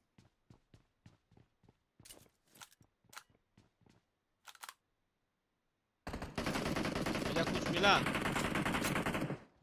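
Sharp gunshots crack out in a quick irregular run, then a loud sustained burst of rapid automatic fire roars through a close-range firefight in the mobile battle royale PUBG Mobile.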